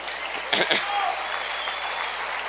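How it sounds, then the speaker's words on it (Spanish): Applause from a church congregation, heard at a low level as a steady wash of clapping with a couple of brief louder bursts near the start. "Dale un aplauso al rey, hombre"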